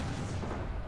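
Cannon batteries fire in a 1529-era gunpowder war strategy game, making a dense, continuous rumbling roar of overlapping blasts with no talking.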